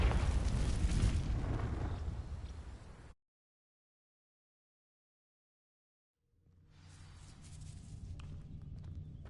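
A Confringo fire spell blasts in Hogwarts Legacy on PS5: a loud, roaring burst that fades over about three seconds, then dead silence, then a low ambient rumble rising back in.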